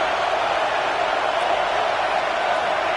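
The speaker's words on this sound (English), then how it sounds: "Listen to this crowd just shaking the girders of this place trying to help their defense." A college football stadium crowd roars in a dense, steady wash of noise that fills the whole stretch, loud and unbroken, with no distinct voices standing out.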